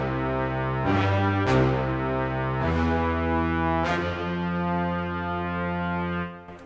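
A synthesized tuba part played on a keyboard for a music track: deep, sustained brassy low notes stepping through a short bassline with a few sharp attacks, close and clear, fading out at the end with no voice.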